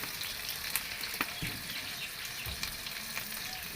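Green chilies frying in a pan for a cauliflower and fish-head curry, a constant close sizzle with occasional pops and stirring scrapes.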